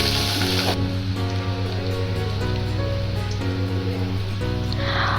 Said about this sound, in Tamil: பிரிஞ்சால் கிரேவிக்கு நமக்கு பிரிஞ்சால் இந்த அளவுக்கு வறுபட்டிருந்தால் போதும்.